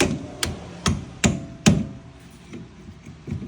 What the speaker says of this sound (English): Just a random screwdriver. Right on the end of that bolt, tapping her through.